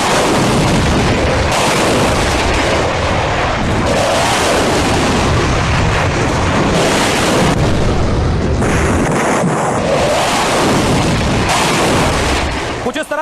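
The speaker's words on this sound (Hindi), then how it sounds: "कुछ इस तरह रफाल ने मिसाइल फायर की" Loud, dense roar of a Rafale jet strike with missile fire and explosions, one continuous barrage of booms and blasts filling the whole stretch without a break.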